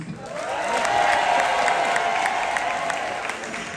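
A live show audience in Belgium applauds the show's director, with clapping and some cheering swelling quickly and holding strong and steady to the end.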